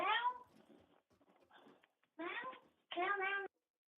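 A cat meows several times in loud, close bursts, with quieter mixed noise and faint sounds between the calls.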